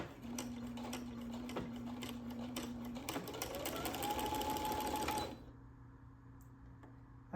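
A sewing machine stitching slowly, run without its foot pedal, gives a steady whirring hum that rises in pitch as it speeds up, then cuts off abruptly, leaving a quiet room.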